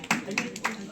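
A few sharp, evenly spaced hand claps at an appointment ceremony for a city general secretary, sounding under a speaking voice.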